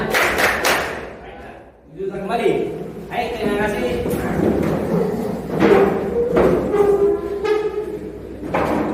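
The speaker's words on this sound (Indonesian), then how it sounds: "Kalau kau suka hati tepuk tangan" Hands clap along in time to a children's action song sung in Indonesian, a few sharp claps at the start, then singing carries on with occasional claps beneath the voices.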